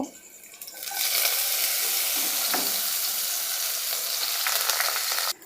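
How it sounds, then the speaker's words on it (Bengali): Dried kachki fish and a few pieces of garlic frying in oil in a wok, giving a steady, loud sizzle that starts softly, swells after a second and holds evenly before cutting off abruptly. "কয়েক টুকরো রসুন দিয়ে শুটকিগুলো ভালো করে ভেজে নিব"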